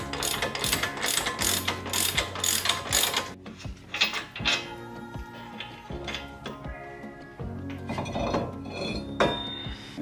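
A hand ratchet pulls new extended wheel studs into place, making rapid close clicking that comes in quick bursts, with short metallic pauses between the strokes and no voices.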